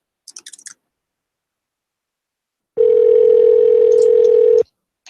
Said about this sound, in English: calling this famous veterinarian